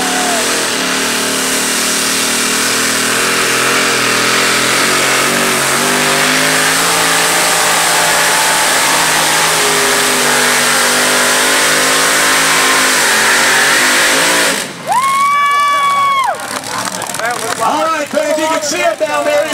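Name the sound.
1923 bucket drag truck with three motors pulling a sled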